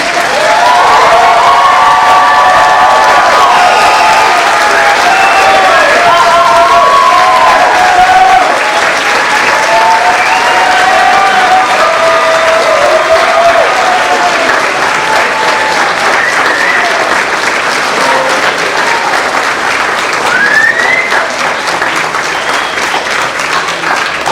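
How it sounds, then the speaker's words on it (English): A large crowd at a spring nursing pinning ceremony bursts into loud, sustained applause, with cheers and shouts rising over the dense clapping for over twenty seconds. "Now you can applaud."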